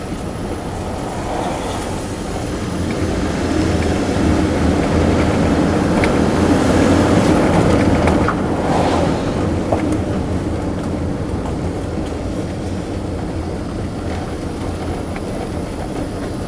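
A Toyota Prius hybrid's petrol engine runs on to charge its depleted hybrid battery. It gives a loud, steady drone and rumble that swells slightly in the middle and then holds constant, with no talking.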